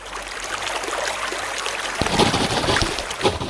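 Water of the Nile river flows and washes steadily, a close, rushing, broadband sound with some wind buffeting and a few splashy bursts toward the end, with no voices.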